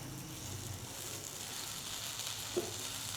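An omelette-style breakfast frying in an oiled pan gives a steady, even sizzle throughout, with a single soft thump as it is turned over near the end.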